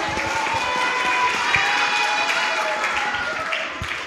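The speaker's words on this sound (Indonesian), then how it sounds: "tepuk tangan." Schoolchildren at an Islamic elementary school clap together in a dense, lively burst of applause that fills the room, then thins slightly toward the end.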